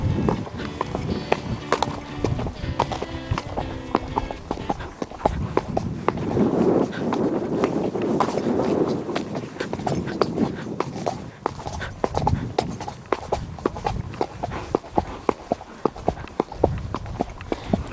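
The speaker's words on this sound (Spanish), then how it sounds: "Nos encontramos montando a caballo" A horse ridden through rapeseed fields in Castilla y León clip-clops steadily, a rhythmic series of close hoof beats continuing throughout with faint rustling around them.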